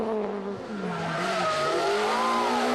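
Rally car at the Rali Vinho da Madeira 2006 smoking its tyres, a loud close engine whine rising and falling alongside sustained tyre squeal, continuous throughout.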